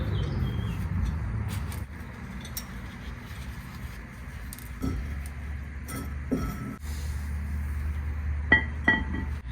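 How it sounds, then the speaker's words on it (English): Work on a Porsche 911 brake: screws are removed and the rotors pulled off, producing scattered metallic clinks and taps with quieter rustling between them, close and fairly faint. "there are 2 Phillips screwdriver screws, so I'm going to remove them and pull out the rotors."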